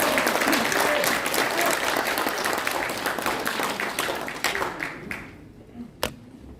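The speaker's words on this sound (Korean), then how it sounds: "나오실 때 우리 크게 박수해 주시기" An audience in a large auditorium at the National Assembly Library applauds a civic movement leader as he comes forward at a launch ceremony, dense clapping that thins out and fades into scattered last claps.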